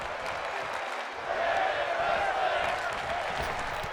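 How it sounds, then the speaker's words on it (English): A wrestling arena crowd roars during a WWE women's match, and the broad noise swells and then holds loud, with commentators talking over it. "This crowd is thunderous right now."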